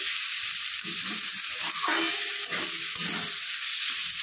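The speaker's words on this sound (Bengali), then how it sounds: "আলুটা দিয়ে একটু নেড়ে চেড়ে নেব।" Potatoes frying in a pan and being stirred, a continuous soft sizzle with intermittent scraping and shuffling as they are moved around, fairly quiet and close.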